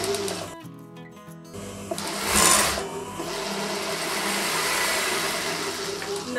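A sewing machine stitches a Katori blouse in short, close bursts of rapid mechanical whirring. Brief pauses separate the runs, with a few soft handling noises and no speech.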